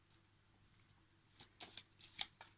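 Crystal oracle cards being shuffled in quick, close riffling bursts, about four or five crisp flurries in the second half after a quiet start, with no talking.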